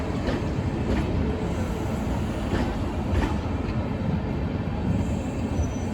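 The 14021 Purulia–Anand Vihar Express rumbles steadily along the rails, heard from inside a coach, a loud continuous roar with faint wheel clatter and no voices.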